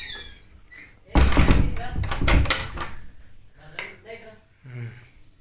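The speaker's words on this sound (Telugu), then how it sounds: "ఓకే డోర్ వేసేద్దాం." A door is pushed shut with a dull thunk near the start. Voices talk and laugh around it, and a few lighter knocks follow.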